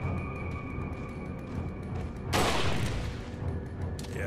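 A pistol shot in Resident Evil 4 gameplay, a single burst of gunfire over steady in-game ambience, followed by a fainter second report near the end.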